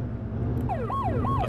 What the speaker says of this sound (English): I only really use the siren when we're going past traffic